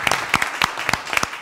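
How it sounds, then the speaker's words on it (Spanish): A small group claps for chamamé musicians at a live musical presentation, the sparse, distinct claps close and fairly loud, with no talking over them. "A saludar a los chamameceros con este fuerte aplauso"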